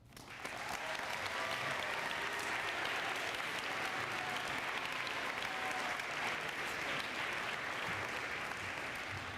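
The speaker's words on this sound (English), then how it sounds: "Let's give one more big round of applause for our middle school swim team." A crowd applauds the middle school swim team at a spring sports awards ceremony, sustained, even clapping that starts abruptly and holds steady at a fairly distant, moderate level.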